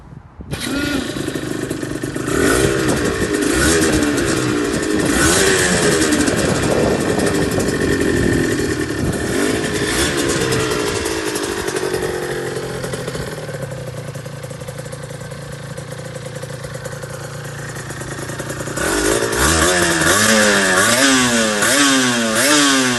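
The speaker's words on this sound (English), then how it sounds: "Here's a little video of the RG125 R starting." A Suzuki RG125 R motorcycle engine starts from cold and runs close by, its revs rising and falling repeatedly, settling into a steady idle before revving again at the end.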